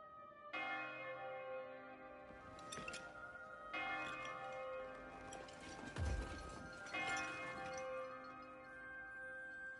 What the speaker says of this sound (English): I hear bells.